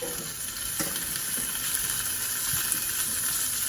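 Chopped tomatoes go into a pan of sautéed vegetables for a Tamil vegetable sothi and set off a steady, hissing sizzle at close range, with a few soft knocks and no talk.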